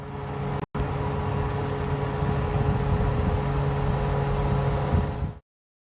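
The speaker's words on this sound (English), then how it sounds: "I'm going to take the van for a quick run" A pre-1995 VW T4 van on the move, its engine and road noise forming a steady, fairly loud drone with a brief dropout early on, before cutting off abruptly.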